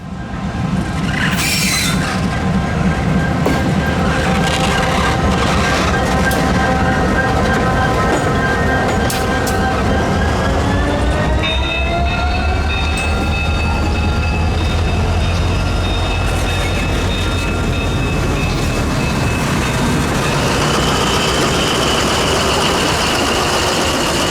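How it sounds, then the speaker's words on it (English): A Cummins-swapped SD90 locomotive on the Yadkin Valley line idles and rumbles loudly with a steady low engine drone, then its pitch rises as it works, towing three steel coil cars, with rail squeals and clanks over the whole stretch. "Train of the day YV1 made an appearance around 1:15 p.m., towing 3 steel coil cars"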